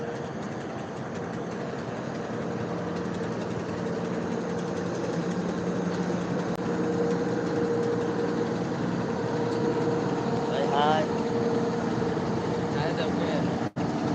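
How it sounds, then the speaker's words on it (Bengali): A small river launch approaches, its engine a continuous low drone at moderate distance that swells slightly over time, with a brief whistle-like rise partway through and a sharp click at the end. "এই যে এখন একটা ছোট্ট একটি লঞ্চ আসতে আছে"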